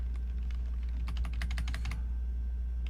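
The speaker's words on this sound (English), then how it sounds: "might be in your best interest to type from the keypad on the actual keyboard" Keys clatter on a computer keyboard while a radio node is set up, with a quick burst of close, crisp taps that thickens in the middle and then stops, with no talking.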